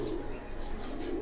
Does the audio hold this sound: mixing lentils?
no